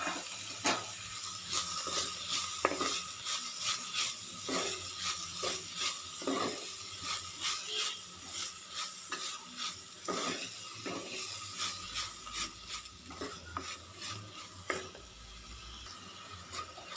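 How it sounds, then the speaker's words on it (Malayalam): Onions softening with salt in a pan for a Kerala prawn roast give a soft sizzle under repeated scraping and clinking stirs at an uneven pace, close up and fairly quiet, with no voices. "സവാള നന്നായിട്ട് വഴന്ന് കിട്ടണം കേട്ടോ"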